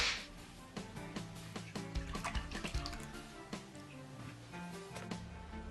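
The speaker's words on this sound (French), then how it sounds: "on répète l'opération 3 fois en changeant l'eau, en massant et en égouttant à nouveau" Rice for onigiri being rinsed and drained: scattered drips and splashes of water patter irregularly, close and quiet, with short trickles between them.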